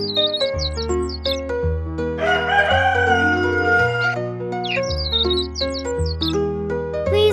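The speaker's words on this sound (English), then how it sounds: "Meet the chickens." A rooster crows once in the middle, a drawn-out call heard over steady, bouncy music that runs throughout, with some chirpy bird-like calls at the start and end; no distinct clucking stands out.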